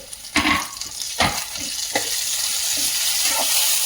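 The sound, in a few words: tomato added to frying onions in pan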